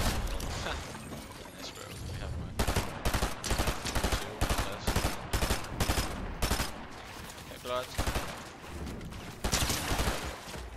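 Rapid gunfire in the video game Fortnite, bursts of sharp shots firing in quick repeated volleys after a quieter opening, close and loud, with brief mechanical clicks between bursts.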